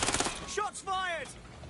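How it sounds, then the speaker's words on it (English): Gunfire from the video game Watch Dogs: Legion, a short burst of shots at the start followed by game character voices calling out. "Shots fired!"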